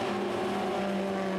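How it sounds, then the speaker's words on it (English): A V8 BMW M3 GTR replica race car roars steadily nearby on a circuit, a deep throbbing drone with a strong low hum, no voices. "This thundering V8 M3 GTR replica."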